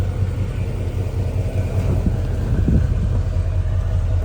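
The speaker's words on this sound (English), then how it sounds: "Gonna go ahead and rev this thing up so you can hear it." A red 1972 Chevrolet Chevelle's engine running up close, a steady low rumble with a couple of brief swells where the throttle is blipped, heard alone without talk.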